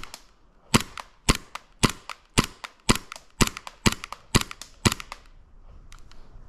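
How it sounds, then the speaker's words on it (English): An SSP18 airsoft pistol fires at a target 50 feet away, producing about ten sharp, close snapping shots at an even rhythm of roughly two per second, with no talk over them. "we're gonna be shooting the target 50 feet away"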